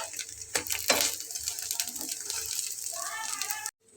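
Vegetable beef cutlets sizzle in a pan as they brown, a steady hissing fry with a few brief clinks and stirring sounds, and a muffled voice drifts in faintly near the end.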